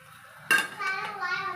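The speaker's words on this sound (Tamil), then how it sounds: "இப்போ மூடிக்கலாம். மூடி வச்சு" A lid set down on a pot of boiling kimchi ramen makes one sharp metallic clank, followed by a brief ringing rattle and the soft bubbling of the pot.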